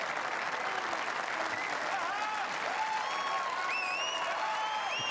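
Sustained applause from a crowd on its feet after the final of the 2016 Northern Ireland Open snooker tournament, loud and continuous across the whole span, with no talk over it.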